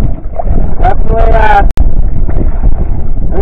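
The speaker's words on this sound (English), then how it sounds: "This is a windy one" Strong wind buffets a microphone outdoors on a solo backcountry camping trip, a loud, constant rumbling roar with one brief dropout. A voice speaks faintly in places under the wind.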